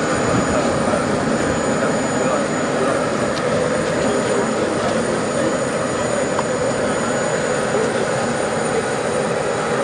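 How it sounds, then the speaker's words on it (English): The Ivorian presidential aircraft arrives with a loud, continuous jet-engine roar that fills the whole stretch at a steady level, close and heavy. "When the Ivorian presidential aircraft arrived, it was President Nana Akufo-Addo who walked"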